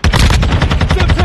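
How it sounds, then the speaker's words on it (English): Rapid, loud automatic gunfire bursts from a multiplayer shooter video game, close and continuous with a dense rattling rhythm over a little more than a second. "Taking effective fire."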